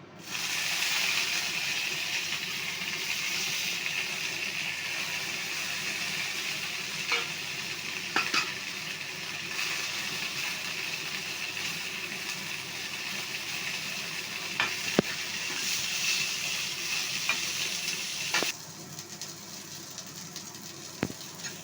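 Mudakathan leaves frying in oil, a continuous close hiss and sizzle with stirring scrapes and occasional sharp clicks of a utensil against the pan, ending with a sudden drop in noise.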